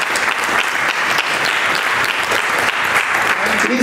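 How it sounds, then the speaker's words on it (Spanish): Church congregation applauding during a sermon, a loud, dense, continuous wash of many hands clapping together from start to finish, with some voices mixed in. "Aplauda al Señor si quiere aplaudir"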